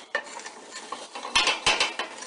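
Butter and crushed pepper being stirred in a pan for pepper sauce, with a soft sizzle under several sharp scrapes and clinks of a utensil against the pan, close by and without speech.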